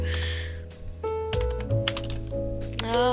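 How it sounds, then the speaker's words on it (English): Typing on a computer keyboard, a quick run of clicky key taps close by, layered over a steady background hum and tonal music-like sounds. "My keyboard's yakking."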